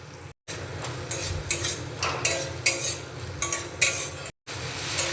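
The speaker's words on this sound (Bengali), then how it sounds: "লবণটা দিয়ে একটু নাড়াচাড়া করে নিয়েছি।" Chopped tomato with a pinch of salt being stirred in a pan for an oil-free roll filling, a spoon scraping and clinking against the metal in repeated strokes over a soft background hiss, with two brief silent gaps.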